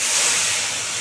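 A blended paste hits hot tempering oil for a pineapple chutney, giving a loud, steady, close sizzle and hiss that fills the whole moment with no talk over it.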